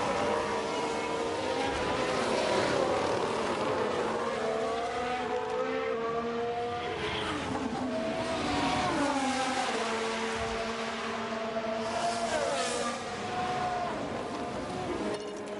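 F1 race cars in the F1 Manager 23 video game pass in a series of whining engine sweeps that rise and fall one after another, continuous and fairly loud with no talk.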